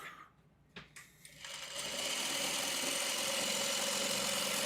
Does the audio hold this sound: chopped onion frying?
no